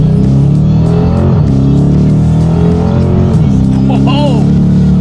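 A 2018 Dodge Challenger R/T Plus Shaker pulls hard in first gear with its engine roaring loud and close. Pitch climbs, drops at a quick paddle shift, then climbs again as it keeps accelerating, alone without talk.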